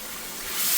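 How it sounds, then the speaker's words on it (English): Base gravy for a Madras curry hits a hot wok set on a cooker's wok ring, giving a loud, broad hiss that swells toward the end, heard alone and close. "Next I'm adding the base gravy"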